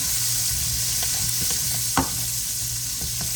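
Peppers and onions sautéing in a pan, a steady loud sizzle with occasional scrapes and clinks of stirring, one sharper clack partway through.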